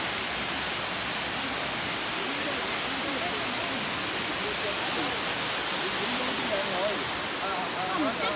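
Steady, loud roar of the Green Onion (Qingcong) waterfall in upstate New York, continuous broadband rush of falling water filling the whole clip without pause.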